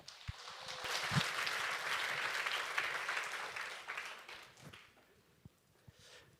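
An audience at a church camp forum festival in Busan claps loudly to welcome the next church group, a dense burst of applause that swells, then thins out toward the end with a few scattered claps.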